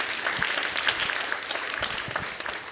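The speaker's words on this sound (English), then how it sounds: "Please give yourselves a warm round of applause." An audience at an education summit panel applauding with continuous, moderately loud clapping from a crowd, sustained throughout with no talking over it.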